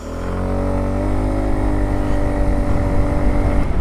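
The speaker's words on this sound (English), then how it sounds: "Let me give you a quick drag." An Aprilia SR160 scooter accelerating hard in a quick drag, its engine droning loud and close as the pitch climbs steadily throughout.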